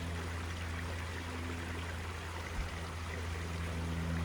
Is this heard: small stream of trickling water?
yes